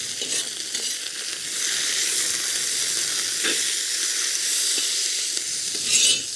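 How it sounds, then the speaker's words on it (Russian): Onion frying in hot oil in a kazan for a Crimean Tatar fish and vegetable dish: a steady, bright sizzle with occasional stirring scrapes, close and continuous, with no talk. "Первым у нас в казан отправляется лук."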